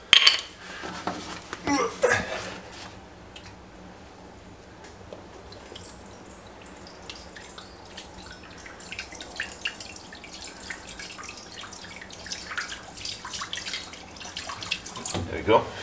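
Undiluted imitation vinegar is dripped onto rusty stainless steel resting on concrete paving, giving faint, sparse wet drips and small splashes close by over a low background hum, with a voice at times.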